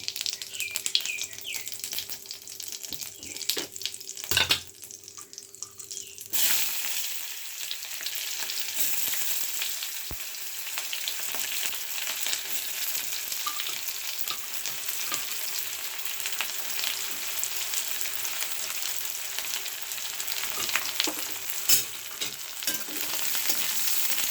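Onions sizzle in hot oil in a pan seasoned with asafoetida and cumin, a steady close frying hiss with occasional stirring scrapes and no talking.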